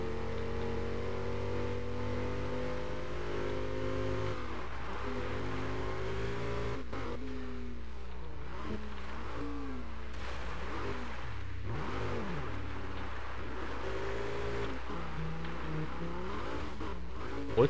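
Car engine revving and drifting in the Burnout Paradise racing game: rising and falling engine pitch with repeated sweeping revs and tire squeal through corners, moderately loud and continuous.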